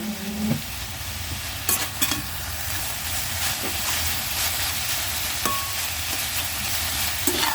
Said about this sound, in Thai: ผัดคลุกเขาให้เขาเข้ากันอีกทีค่ะ